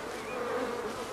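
A swarm of agitated killer bees buzzes steadily and loudly throughout, a dense, continuous insect drone with no voices.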